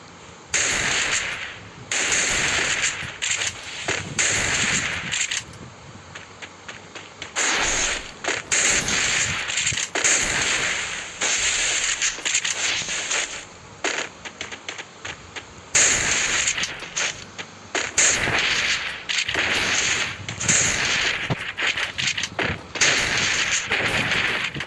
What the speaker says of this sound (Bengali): বডি শট লাগানো হয়ে গেছে ঠিকঠাক মতো। এরপরে হেডশট।